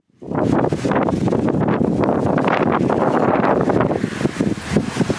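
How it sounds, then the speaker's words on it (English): Strong wind buffets the microphone in a loud, continuous roar with gusty rumbling, easing slightly toward the end. "windy, windy. Good thing I hairspray my hair."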